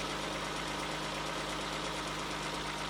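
A 1994 Ford Probe GT engine with 144,000 miles idles with a steady, low hum, an even mechanical drone and no talking.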